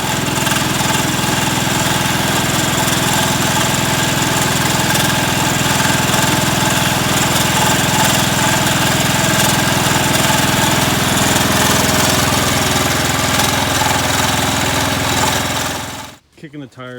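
Engine of a Suburban loader fitted with a new stack muffler from Tractor Supply, running at a loud, steady, rough drone close by, cutting off abruptly at the end.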